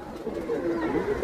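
Soft, low cooing of fancy pigeon breeds such as Rampuri Kalanch and Lall Chapdar nearby, a brief murmuring call over a steady background hum.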